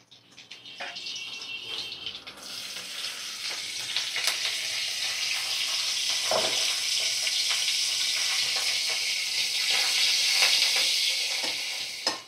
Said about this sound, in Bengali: চলো দেখি, কারি পাতা দিয়ে দিই।